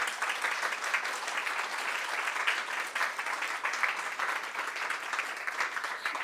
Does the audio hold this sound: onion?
no